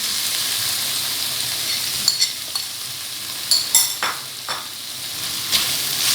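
Potatoes frying in a pan for cheesy spaghetti, a steady bright sizzle with occasional scrapes and clinks of a utensil stirring against the pan.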